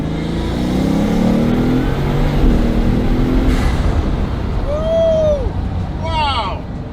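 A Bugatti engine roars loudly and steadily as it revs and accelerates, with the throaty drone holding throughout while a voice talks briefly partway through.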